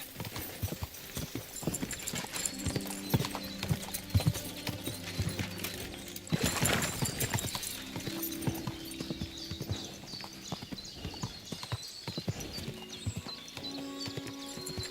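Horse hooves clip-clop rapidly in a steady galloping rhythm in the video game Kingdom Come Deliverance II, with a short whinny partway through and hoofbeats continuing close and clear.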